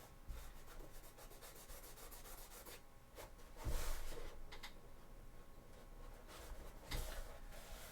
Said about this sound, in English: So I will just have to sand some stuff off.